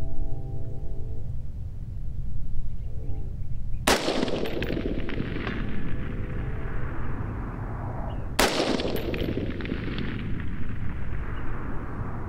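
Two loud rifle shots fired with Frontier 5.56 ammunition on an outdoor range, each a sharp crack followed by a long fading echo, about four and a half seconds apart, with no talk.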